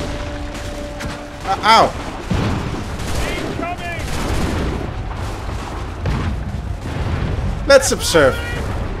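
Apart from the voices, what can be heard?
musket volley gunfire in Assassin's Creed 3 video game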